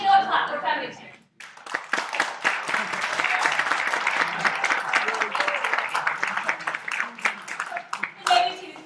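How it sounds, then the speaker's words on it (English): A classroom audience claps for the affirmative team after a student debate, sustained mixed clapping lasting several seconds, with talk briefly before and after. "clap for affirmative team"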